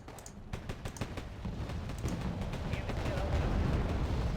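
In the video game Wargame AirLand Battle, a series of fairly faint artillery shots thuds in quick succession, followed by a rumbling barrage that builds steadily.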